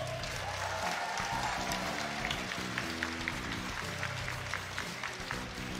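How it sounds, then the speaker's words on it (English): Audience at a JoJo's Bizarre Adventure All-Star Battle R top eight fighting-game tournament clapping, a fairly faint, steady round of applause throughout. "Let's give one more round of applause for the top eight."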